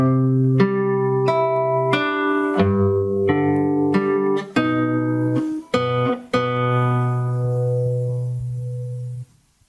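Solo fingerstyle acoustic guitar plays a phrase, close and clear, with a series of plucked notes and bass notes ringing over one another, then a final chord decaying into silence.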